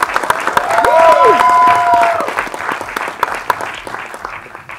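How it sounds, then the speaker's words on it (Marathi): Loud, dense applause fills a crowd at a Marathi film trailer launch for Man Yedyagat Zala, clapping for Priya ma'am, swelling early and then tapering off, with a few brief tonal cries mixed into the clapping. "या जोरदार टाळ्या प्रिया मॅमसाठी झाल्या पाहिजे पुन्हा एकदा"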